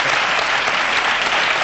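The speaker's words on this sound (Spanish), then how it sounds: "Un aplauso aquí." A studio audience claps loudly and steadily at a Spanish entertainment show, a dense continuous wash of applause with no voices over it.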